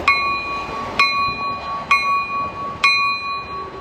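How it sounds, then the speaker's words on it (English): A locomotive bell on a Union Pacific engine is tapped gently by hand, giving four clear metallic dings about a second apart, each ringing with bright sustained overtones that fade slowly before the next strike. "since you can't really ring the bell from the clapper underneath, you can just tap it gently like this"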